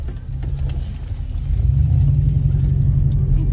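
Car driving on the road, heard from inside the cabin: a steady low rumble that swells a little louder about halfway through, with no talking.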